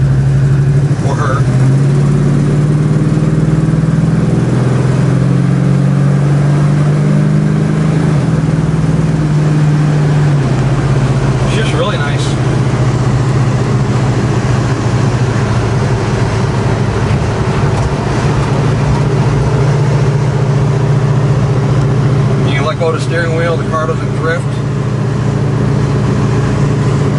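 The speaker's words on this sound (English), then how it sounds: "I'm just going to show you guys how it runs through the gears nicely." A 1967 Chevrolet Camaro driving on the road and running up through the gears, a loud, steady engine drone with a few shifts in pitch, heard from inside the car.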